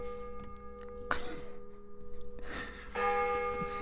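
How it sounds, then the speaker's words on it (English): Bells ring in a few separate struck tones with sustained, humming decays, moderately close and alone without talking. "That was the Belizean bells."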